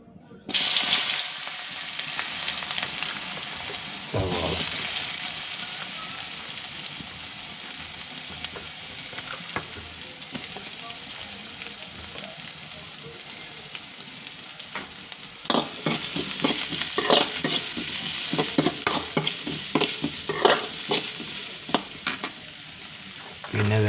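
Sliced onions sizzle and crackle in a hot pan while being stirred, with scraping and hissing throughout.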